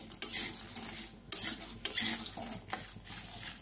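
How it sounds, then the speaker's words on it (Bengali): Pasta fries lightly in melted ghee in a pan, with spoon strokes scraping and clinking against the metal in an irregular rhythm over a soft sizzle. "বেশি ভাজবো না, অল্প করে ভেজে নেব।"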